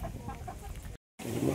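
Chicken clucking in a rural lakeside stop, with soft clucks over steady outdoor background, cut by a brief dropout before the ambience returns louder.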